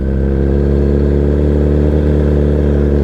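A motorcycle engine holds steady at low throttle while a learner rides slowly at about 15 mph, giving a close, constant, even hum with no revving and no talking.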